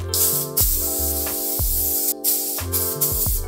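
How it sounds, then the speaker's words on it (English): Several bursts of hissing aerosol spray, some short and some longer, separated by brief pauses, close to the microphone. "It's literally haze in a can."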